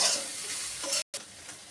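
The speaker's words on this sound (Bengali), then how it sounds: "এভাবে এই তেলটার মধ্যে দিয়ে আমি ভালো করে ভেজে নেবো" Soybean chunks sizzle and crackle steadily while frying in hot oil in a kadai, with stirring noise, a brief silent gap near the end, then more sizzling.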